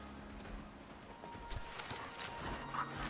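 A pack horse walks in the video game Icarus, with faint soft clip-clop hoofsteps at an uneven pace, quiet under low ambient game noise.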